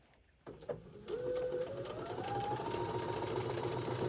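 Sewing machine running a straight seam along a tote bag strap, a few starting clicks giving way to a steady close mechanical whir whose pitch gradually rises as the motor speeds up.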